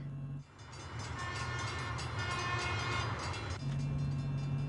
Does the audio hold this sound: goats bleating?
no